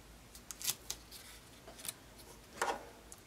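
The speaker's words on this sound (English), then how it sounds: "And to cut some of that tape off." Scissors snipping through craft tape while assembling a pop-up paper card: a few short, crisp cuts close by, quiet and spaced apart, with no talk.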